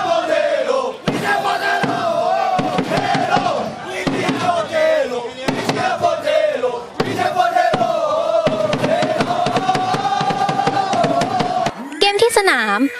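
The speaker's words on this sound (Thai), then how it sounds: "สนามเริ่มด้วยความคึกคักของกองเชียร์ทั้ง2ทีม" Loud, steady roar of a packed football stadium crowd, supporters of both teams chanting and cheering with sharp drum-like beats, continuous throughout before a brief shift at the end.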